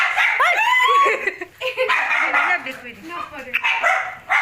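A pet dog at a house barks and yips in loud, rapid, close bursts, layered with excited people talking over it.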